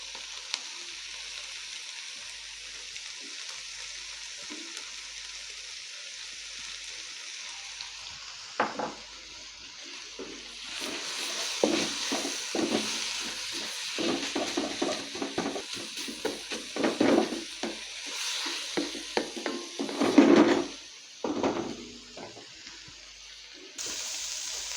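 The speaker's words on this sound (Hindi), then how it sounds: "दो से 3 मिनट भून लिए।" Chicken and egg fried rice with black pepper and salt fries in a pan, a soft hiss at first that grows into louder sizzling, broken by scraping and clattering as it is stirred.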